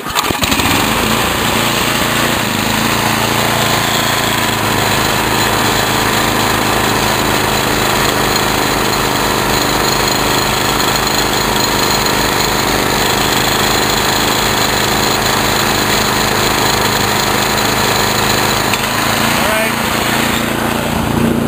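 A snowblower engine roars steadily and loudly from start to finish, a constant buzzing drone close to the microphone, with people talking over it.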